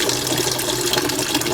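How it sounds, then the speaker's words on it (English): A kitchen faucet runs cold water over boiled eggs in a pot, giving a steady, close hiss and splatter of water for its whole short length. "let some cold water run over them so you won't get burned"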